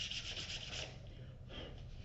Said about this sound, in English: I'm going to take my sandpaper